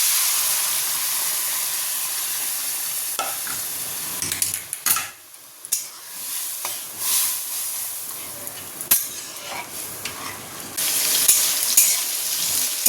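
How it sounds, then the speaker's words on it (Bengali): Pointed gourds fry in a hot pan, browning in oil with a steady, close sizzle and hiss, and occasional stirring scrapes and clinks of the utensil against the pan. "এই পটলগুলোকে ভালো করে লাল লাল করে ভেজে নিচ্ছি।"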